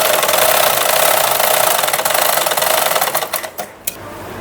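A sewing machine with a normal presser foot stitches a bias-cut strip of cloth, running in a steady, loud mechanical whirr that slows into a few separate stitches and stops near the end.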